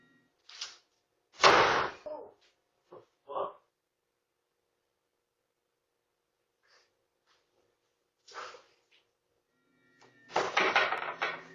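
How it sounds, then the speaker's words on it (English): Inside a house at night, a door is yanked shut hard, giving a sharp bang among scattered faint knocks and shuffles, with stretches of near silence and a soft voice nearby. "One of the doors is aggressively yanked shut"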